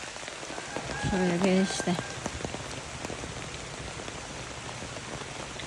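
Steady rain falls on surfaces in Tana Toraja, a dense, close patter that carries through the whole clip, while someone speaks briefly over it near the start.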